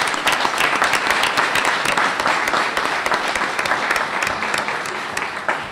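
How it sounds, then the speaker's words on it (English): A large audience at an evening event gives loud, dense applause, sustained throughout and tapering slightly toward the end. "Please give her a round of applause."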